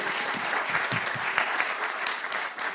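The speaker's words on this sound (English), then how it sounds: "big applause for Steve, please." Steady applause from an audience at a fintech recruiting event, a dense wash of clapping hands that holds throughout at fairly even loudness.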